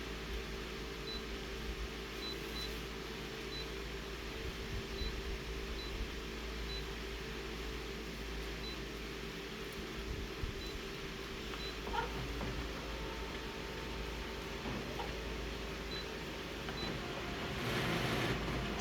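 A photocopier runs continuously with worn tray 1 pickup rollers, giving a steady, fairly quiet mechanical hum and whir with faint clicks and a slight rise in noise near the end, with no voices.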